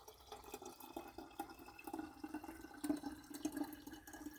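Elderberry syrup poured through a strainer into a big jar gives faint, trickling liquid and soft dripping, quiet and uneven throughout without any talking.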